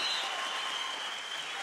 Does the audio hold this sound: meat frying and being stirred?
no